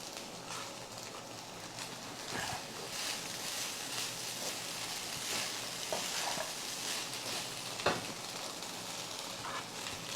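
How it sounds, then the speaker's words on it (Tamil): Okra rice is stirred in a pan on a medium flame, a soft continuous sizzle with scraping spatula strokes and an occasional sharper clink against the pan. "அப்படியே மீடியம் ஃப்ளேமில் நல்லா ஒரு 3 நிமிஷம் அப்படியே கிளறி விட்டுக்கிட்டே இருங்க"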